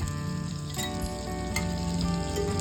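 Almonds and raisins frying in ghee in a pan, producing a steady, close sizzle with a couple of brief clicks, under a faint tonal background hum.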